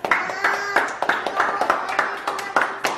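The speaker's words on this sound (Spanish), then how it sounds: "Un aplauso al chef." A few people clap for the chef at a home birthday meal set for dinner, sharp close hand claps in a loose, uneven rhythm, with voices briefly audible around them.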